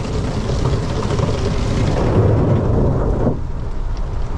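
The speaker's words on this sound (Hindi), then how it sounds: "आज है काफ़ी भयंकर बारिश" Heavy rain pours down during a storm along a village road, with a Mahindra Bolero being driven through it: a loud, dense, constant roar of rainfall with a deep rumbling undertone and no voices.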